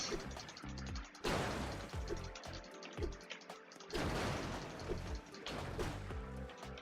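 Repeated loud crunching impacts as a car is crushed again and again in the Roblox game Car Crushers 2, metallic smashes and thuds with game sound effects, broad bursts returning every second or two.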